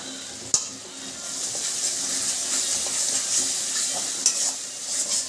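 A paste of poppy seeds, black and white mustard, cardamom, cinnamon and dried red chilli fries in a wok with a steady close sizzle, punctuated by a sharp clink and occasional scraping stirs.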